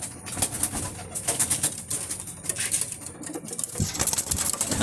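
A continuous chorus of racing pigeons cooing in their loft, close and busy, with soft pattering and rustling among the birds and no voices.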